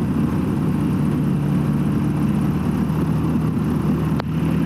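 Falcon motor glider engine idling and rumbling steadily up close as it taxis along a hard airfield runway, a constant low drone with no pauses.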